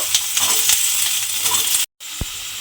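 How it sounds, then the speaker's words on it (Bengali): Small potato pieces with black cumin dropped into hot oil, a steady loud sizzle and spatter close up, broken by a brief cutoff and a small metallic clink near the end. "আলুগুলো কিন্তু আমি প্রথমে তেলের মধ্যে দিয়ে দেব"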